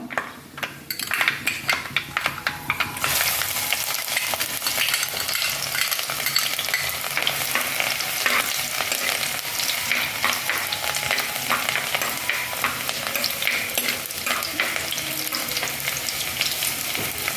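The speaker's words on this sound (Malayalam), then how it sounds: "അപ്പോൾ അതിൻ്റെ കൂടെ ഇച്ചിരി ഇഞ്ചിയും വെളുത്തുള്ളി, നമ്മൾ അരിഞ്ഞു വെച്ച ഇഞ്ചിയും വെളുത്തുള്ളി ചേർക്കണം" Chopped ginger and garlic hit hot oil for a Kerala-style choora (tuna) curry, setting off a loud, steady sizzle after a brief quieter start, with occasional clinks of a spoon against the pan.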